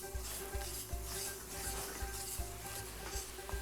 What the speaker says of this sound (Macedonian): Ова треба уште едно 5 минути сигурно да се испржи.